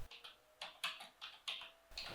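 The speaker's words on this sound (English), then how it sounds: "I press on this one and press shift on my keyboard" A computer keyboard clicks crisply several times in quick, uneven succession, close and clear with no talking.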